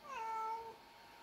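A cat with an injured tail gives a single drawn-out meow, close and clear, alone in a quiet room.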